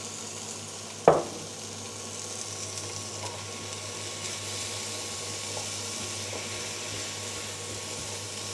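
A homemade tomato pasta sauce sweetened with a little brown sugar cooking down in a pan, giving a steady, quiet sizzle and bubble with one sharp clink near the start.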